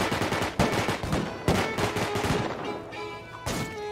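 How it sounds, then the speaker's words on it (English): Gunfire in the video game Rust, with sharp shots cracking out in an uneven run, close and punchy, over a background of game sound. "Oh shit, they're inside shooting down"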